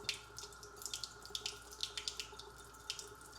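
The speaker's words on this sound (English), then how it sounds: "wash my hands off" Water running from a sink faucet while hands are washed, a soft steady stream broken by irregular splashes and patters, close and fairly quiet, with no voices.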